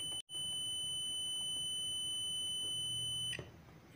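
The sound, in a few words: multimeter continuity test buzzer sounding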